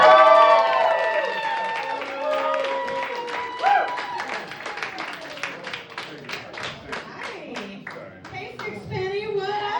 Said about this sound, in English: clap one more time for the hilarious Mary Budd